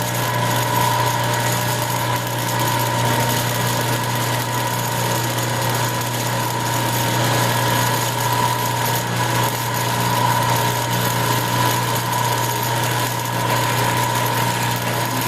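A saw blade cuts slowly through a part of a headless guitar under repair, a steady close machine whine and hum lasting unbroken with no talk.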